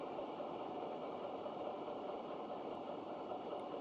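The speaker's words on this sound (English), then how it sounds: "That is an engine slowing down." A steady, low ship engine drone in a submarine video game hums on without pause as the engine slows, muffled and even, heard through a hydrophone underwater.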